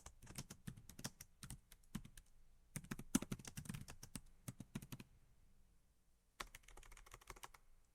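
Rapid clicking of keys on a computer keyboard, typed in quick bursts with brief pauses between, close and fairly quiet.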